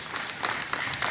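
At a Hindi poetry recital hosted by the Varanasi income tax department, the audience breaks into applause: a brief, steady wash of many hands clapping at moderate distance, with no voices over it.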